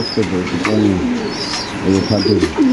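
Pigeons at a seller's stall give repeated close, soft, throaty coos in overlapping bursts that continue throughout.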